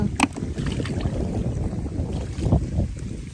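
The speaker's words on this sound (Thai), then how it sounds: "อู้ลมขนาดเลย" Strong wind roars over a freshwater spot where people gather clams, a steady low rumble of wind noise buffeting the microphone throughout, with a few louder gusts and faint splashy knocks.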